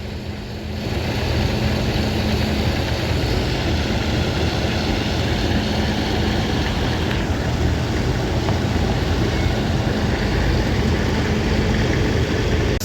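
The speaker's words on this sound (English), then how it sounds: "So let the tractor cool down a bit before I shut it off" A hot, hard-worked farm tractor idles during a straw harvest on a warm day, its engine giving a loud, steady, unbroken rumble with no talking.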